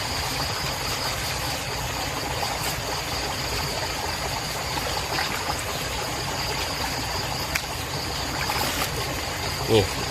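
Stream water flows continuously and steadily through a channel at a rice field where field crabs are being caught, a close broadband rush with faint voices and engine-like hum underneath.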